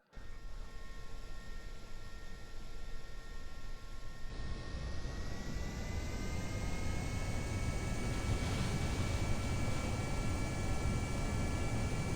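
A steady, loud jet engine roar with a rising whine as an aircraft accelerates on takeoff in Kerbal Space Program, continuous and unbroken with no talking.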